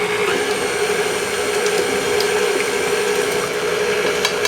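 An electric mixer whirs steadily as it blends egg, oil and milk into chocolate Irish cream cake batter, a continuous close motor hum with liquid churning.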